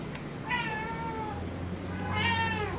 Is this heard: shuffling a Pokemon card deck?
no